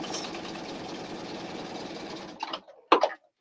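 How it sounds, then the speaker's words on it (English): A home sewing machine stitching elastic casserole cover fabric, a steady whirring mechanical run that stops abruptly, followed by a few short clunks and handling sounds. "I'm just going to stitch a little bit"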